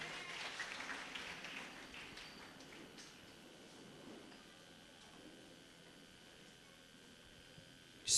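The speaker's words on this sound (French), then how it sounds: "On acclame pour la gloire de Dieu." Applause from a church congregation at a Congolese church service, a fairly steady patter of many hands, loudest in the first seconds and then thinning to a softer spread of clapping.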